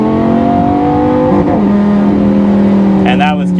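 A car with a single-clutch automated manual transmission accelerates under steady throttle, its engine droning loudly up and then dropping pitch as it shifts gear near the middle, with a brief rise again at the end.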